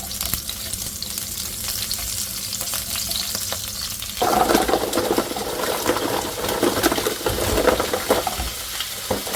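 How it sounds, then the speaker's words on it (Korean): Garlic stir-fries in an oiled pan. A close, crackling sizzle carries scraping stir strokes, and it swells suddenly louder partway through as more is stirred or added, with no voices. "마늘을 볶다가"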